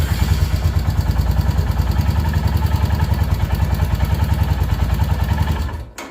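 Royal Enfield Himalayan 411 single-cylinder motorcycle fitted with an aftermarket cam, running steadily after starting with no choke, a loud, even, rapid low thumping with mechanical clatter that continues without talk before cutting off near the end.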